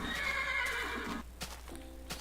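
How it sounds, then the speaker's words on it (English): A baby horse in the Minecraft video game whinnies loudly and close, a stretched neigh lasting over a second, followed by a few short clip-clop steps and a softer second neigh over steady background hum. "Ooh, baby horse."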